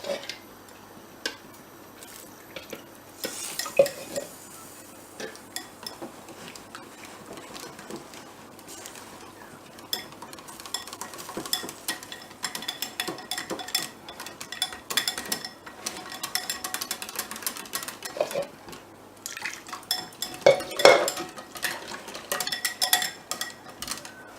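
Carrot soup being stirred in a pot, a spoon ticking and scraping against the pot in irregular clinks, fairly close and moderately loud, with brief bursts of faster rattling.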